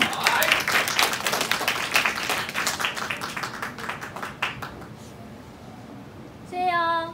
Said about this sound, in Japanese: いきましょう、アレンニェ拍手。